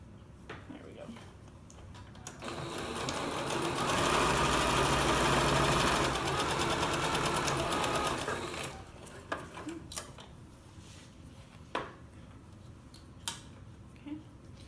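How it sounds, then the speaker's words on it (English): A sewing machine stitches a short seam joining the legs of a pair of reversible shorts, a steady mid-loud whirring run of a few seconds, followed by fabric rustling and clicks. "sewing the legs together"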